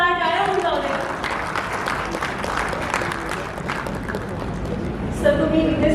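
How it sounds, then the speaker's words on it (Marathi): Applause for the dignitaries at the Bigg Boss Marathi Season 6 press conference, steady clapping from a gathered crowd lasting several seconds, with voices briefly heard at the start and end. "मान्यवरांसाठी एका जोरदार टाळ्या होऊन जाऊ दे"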